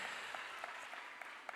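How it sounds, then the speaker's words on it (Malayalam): An audience at a college festival applauds with steady, fairly faint hand clapping that carries on evenly throughout, with a few sharper individual claps standing out. "ഈ രണ്ട് കരങ്ങൾ തമ്മിൽ കൂട്ടുമുട്ടുമ്പോഴുള്ള ഇപ്പോൾ കേട്ട് നടക്കുന്ന ശബ്ദവും"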